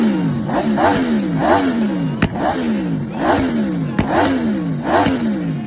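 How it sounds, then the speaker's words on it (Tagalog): A CF Moto 1000cc sports bike with a V4 engine revs hard again and again, each loud, close rise in pitch falling back in a steady cycle of about six revs. "Ang tunog nga po ng V4 engine guys is talagang napakamaskulado nga po."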